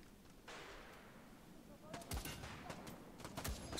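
Shotgun blasts and other gunfire crackle in the PSVR shooter Bravo Team, sharp repeated bangs in an uneven volley over a constant background of game noise.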